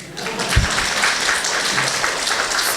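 Applause from a church congregation during a missionary's sermon, a moderate patter of clapping with a thump or two near the start and a few voices murmuring underneath.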